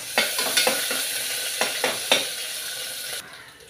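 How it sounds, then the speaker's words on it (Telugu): Green chillies and ginger pieces frying in a pan for a brinjal curry tempering, a steady hiss of sizzling oil broken by several sharp stirring scrapes and clicks, close and alone. "పచ్చిమిర్చి ఒక 4-5 తీసుకున్నాను, అల్లం ముక్కలు ఇవి కొంచెం వేయించుకోవాలి"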